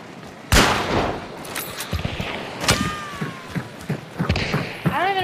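Gunfire in the video game Hunt: Showdown: several sharp shots at uneven intervals, one loud and close, others fainter and more distant, with game ambience between them.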